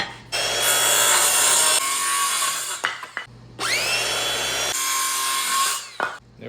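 A power saw cuts a wooden board for a DIY wheel rack in two loud close bursts, each a high, harsh whine through the wood lasting a couple of seconds and ending with the blade spinning down, with no talking.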